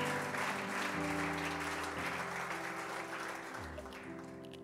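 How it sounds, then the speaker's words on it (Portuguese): Church congregation applauding together, a steady, fairly loud wash of clapping with a sustained music-like tone underneath, fading slightly toward the end. "Vamos aplaudir o Espírito Santo."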